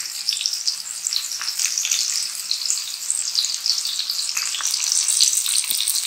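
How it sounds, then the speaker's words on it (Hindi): Fish frying in oil in a pan, a close, bright crackling sizzle with bursts of popping spatter, steady throughout with no talking. "ये एक साइड से अच्छी तरह से फ्राई हो जाएगी"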